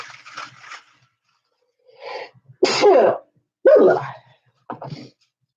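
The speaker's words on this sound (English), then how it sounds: "I have a sneeze." A couple of sharp, loud sneezes burst out close by, framed by quieter breathy sounds and brief silences.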